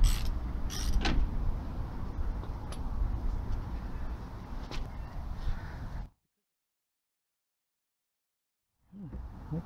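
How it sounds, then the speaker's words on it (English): A 13mm shallow impact socket works a bolt loose on the rear brakes of a 2006 Toyota Avensis 2.2 diesel, giving a close mechanical grinding with scattered clicks and creaks for about six seconds before a silent gap. "Use a 13mm shallow impact socket to release this bolt here."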